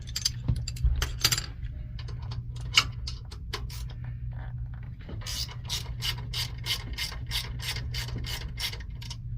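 A hand ratchet with a 13 mm socket loosens bracket bolts on a Brunswick GSX bowling pinsetter: scattered clicks at first, then a fast, regular run of close, sharp ratcheting ticks.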